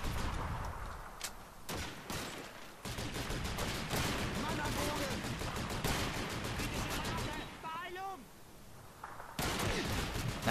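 Gunfire from the World War II shooter Call of Duty 2, with repeated sharp shots and bursts scattered through a busy battle mix, loud and dense, briefly thinning before firing resumes.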